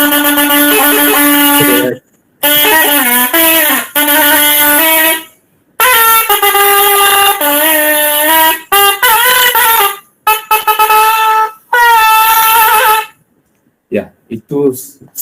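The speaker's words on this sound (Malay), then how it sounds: "itu serunai ya" Serunai, a traditional double-reed wind instrument of Nang Talung shadow-puppet theatre in Kedah, plays a loud, nasal wavering melody in several phrases separated by short pauses, with a brief spoken word near the end.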